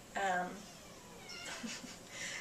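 A female Siamese mix kitten at an animal shelter gives a clear, drawn-out meow near the start, followed by fainter mews as a person talks in the background.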